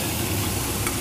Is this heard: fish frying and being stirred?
yes